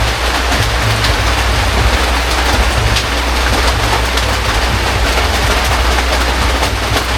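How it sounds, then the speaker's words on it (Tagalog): Heavy rain pours down in a loud, dense, unbroken roar with a deep rumbling undertone, steady from start to finish and with no voices. "Guys, lumakas na ang ulan."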